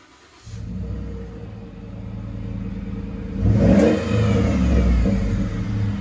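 A Ford F-150 5.0L Coyote V8 idles with a low rumble, then revs up hard into a loud, throaty exhaust roar before settling back to a strong idle.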